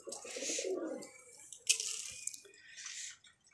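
Pigeons cooing softly at close range in a loft, a few low gurgling coos with light rustling and wing flutters, a train rumbling faintly nearby, and faint speech in the background.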